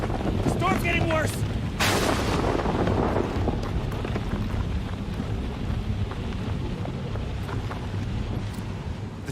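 A thunderstorm in the horror video game Outlast 2 rolls in with a heavy low rumbling boom early on, over a constant roar of wind and rain that stays loud throughout.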